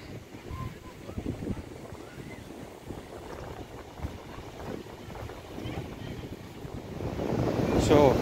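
A clean beach at Papa de More on the Arabat Spit, with low rumbling surf and gusting wind buffeting the microphone throughout, growing louder toward the end.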